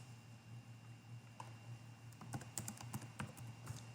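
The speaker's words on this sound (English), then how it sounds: "I'll just type it in." Computer keyboard typing during an online class session: quiet, close key clicks in short irregular bursts over a low steady hum, with no talking.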